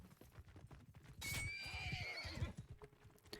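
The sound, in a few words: horse neighing and hooves in a video game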